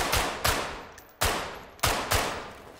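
Shotgun blasts in the tactical shooter game Ready Or Not, five loud, sharp booms at uneven intervals, each followed by a decaying tail, with no talking between the shots.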